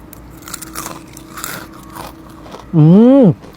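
Crunching bites of a crispy vegetable snack eaten with nasi kerabu, heard close under casual talk, followed by a loud sustained tonal sound near the end.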